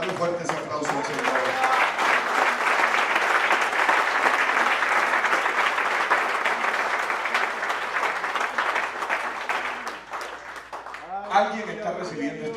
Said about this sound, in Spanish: Dale un fuerte ese aplauso al Señor.